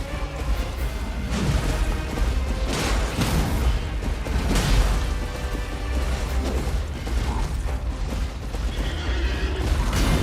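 A horse whinnies in the video game Elden Ring amid a busy, continuous clatter of mechanical game sounds, creaks and thuds, with no talking.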